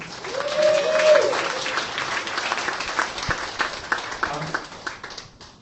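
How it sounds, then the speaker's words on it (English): Audience applause at the 2016 Arthur C. Clarke Award ceremony: a steady crowd of hands clapping together, loudest early and slowly thinning toward the end, with a voice briefly audible at the start. "Round of applause"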